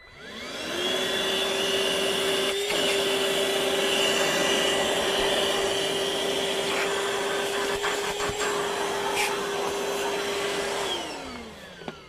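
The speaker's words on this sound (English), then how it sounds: "Seems like decent suction." Ryobi cordless vacuum running with suction: a loud steady whine spins up, holds level for about ten seconds with a few knocks, then winds down as it is switched off.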